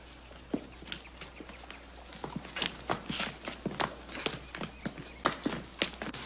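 Several horses walk over hard ground in a Western setting, their hooves clip-clopping in a rough, uneven rhythm that starts sparse and grows denser and closer, with faint background ambience and no talk.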